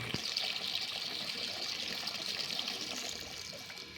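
Water runs steadily into a container, a continuous soft splashing trickle at moderate distance that fades slightly toward the end, with no talk.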